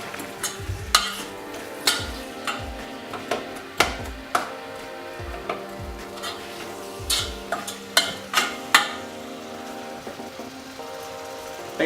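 Onions and garlic frying in a pan while being stirred for a pasta sauce, with a soft steady sizzle under repeated knocks and scrapes of the stirring utensil against the pan, all fairly close.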